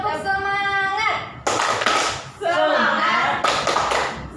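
A class of fifth-grade pupils performs the rhythmic 'tepuk semangat' spirit clap, sharp bursts of group clapping alternating with loud children's voices chanting together in a classroom.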